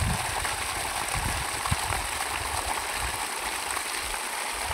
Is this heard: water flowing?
yes